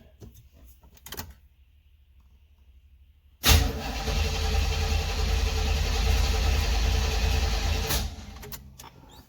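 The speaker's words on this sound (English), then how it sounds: "let's see if she'll crank over with the new ignition cylinder" A 1976 Corvette found in a garage, with a new ignition cylinder, turning over after years of sitting. A click and a quiet pause come first, then the starter cranks loudly and steadily for about four seconds before it stops.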